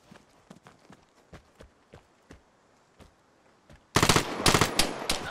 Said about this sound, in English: we got some shooting up ahead